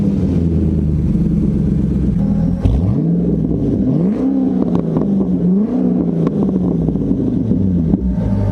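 A deep Corvette C6 exhaust revs up and down several times, loud and close, the engine note rising and falling over a steady idle rumble.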